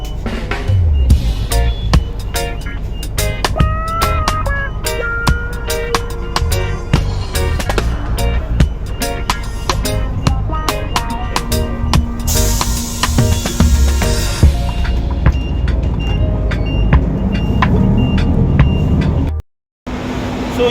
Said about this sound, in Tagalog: sobrang ingay dito, sobrang dami ng ugong na sasakyan din ingay kabingi sa dami ng sasakyan